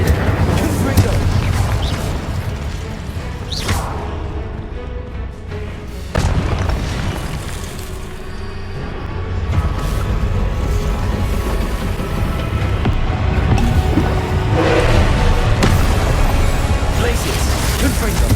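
Confringo blasting spells going off in the Hogwarts Legacy video game: repeated booming explosive bursts over continuous rumbling battle noise, with speech mixed in throughout.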